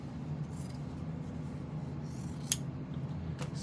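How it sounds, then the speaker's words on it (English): Scissors snip a small fabric ear piece for a sewn memory bear, steady close rubbing and cutting texture with one sharper snip, no talking. "I'm gonna cut this little piece off"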